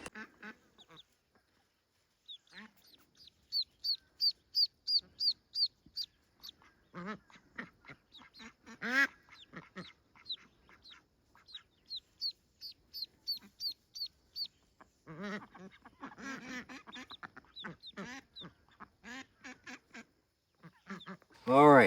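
Backyard chickens around a Japanese beetle trap, a run of loud, evenly spaced squawks followed by scattered clucks and overlapping calls, close by, with brief quiet gaps between bursts.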